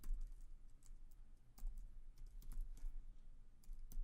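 Quiet typing on a computer keyboard while code is entered, with irregular soft keystroke clicks and a few sharper taps over a low background hum.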